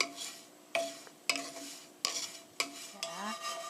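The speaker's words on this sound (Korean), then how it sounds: "그냥 냅두면 타니까 저어가면서 볶아주세요." Bread cubes are stirred and sautéed in a pan, with a spoon knocking against the pan in regular strokes about every half second over a soft, steady sizzle.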